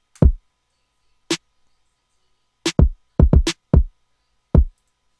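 Short, punchy drum hits land in an uneven, stuttering pattern, with deep kicks and a couple of rapid clustered hits separated by silence.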